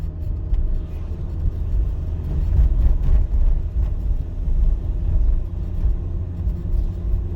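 Car engine hum from inside a moving vehicle in second gear at about 2200 rpm, a steady low rumble that holds constant throughout.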